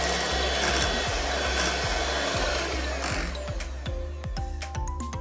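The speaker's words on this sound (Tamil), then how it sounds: "ஸ்லோ ஸ்பீடில் ஃபஸ்ட்டு வந்து விப் பண்ண ஸ்டார்ட் பண்ணிடலாம்" An electric mixer whips cream at slow speed for mango ice cream, a close steady motor whir with regular rhythmic knocks of the beaters against the bowl.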